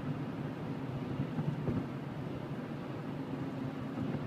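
A car driven flat out at about 80 mph with the pedal floored, dropping into third gear: a loud, steady, low engine and road drone fills the cabin, continuous and unbroken, with no one talking.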